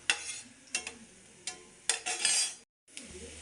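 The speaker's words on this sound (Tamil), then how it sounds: "பூண்டை நல்லா வறுத்து" Garlic fries in a pan for curry leaf chutney, with several sharp scraping stirs of a spoon against the metal and a brief sizzle between them, close and fairly loud, with one short gap of silence.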